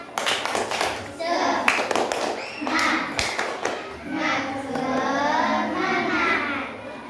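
Schoolchildren in a classroom do a rhythmic Indonesian spirit clap, with quick bursts of hand claps followed by the group's voices chanting together.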